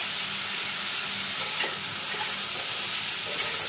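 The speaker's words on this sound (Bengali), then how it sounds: "খুব ভালো করে একটু ভেজে নেব।" Potato and taro frying in a pan with salt and turmeric, a continuous close sizzle with light stirring scrapes running evenly throughout.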